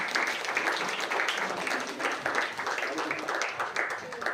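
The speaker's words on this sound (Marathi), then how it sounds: "टाळ्या वाजवून जोरदार स्वागत करायचं आहे." A crowd at a Mahatma Phule Jayanti gathering claps steadily to welcome a guest, a continuous moderately loud applause with talk from the stage mixed in.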